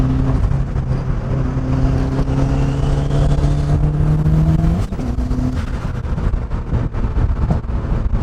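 A turbocharged Mazda Miata is driven hard through corners at around 45 mph on a road posted for 25. The engine drones loud and steady from inside the car, its pitch climbing, then it changes gear partway through.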